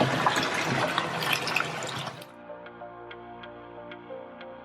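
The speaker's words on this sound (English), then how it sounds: "I literally have to hold a piece of hair under this and rinse it out" Running water rinses hair extensions, a loud close splashing stream for about two seconds before it stops and faint drips remain.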